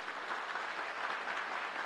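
Dense, steady applause from an audience at an evangelical church campaign gathering, many hands clapping together continuously with no break.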